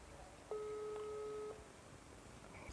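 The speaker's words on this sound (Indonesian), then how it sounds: "Telepon berdering," An outgoing telephone call rings back with a single steady electronic tone lasting about a second, clean and moderately loud over faint background hiss.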